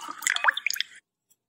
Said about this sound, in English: Now I am going to add a glass of normal water to this glass.